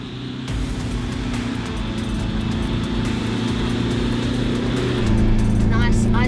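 A 4WD vehicle's engine droning steadily while driving off-road, its low rumble rising in pitch through gear changes near the end, close and loud under continuous talk.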